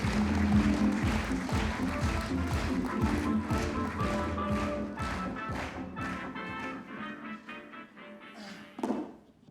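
Audience applause at a centenary congress morning session, a hall full of people clapping in a sustained burst that gradually thins out, ending with a brief louder thump.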